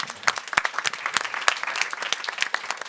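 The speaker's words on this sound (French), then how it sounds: "je pense qu'on peut applaudir" An audience at a panel discussion claps in a lively round of applause, with sharp, close individual claps heard in a quick uneven patter.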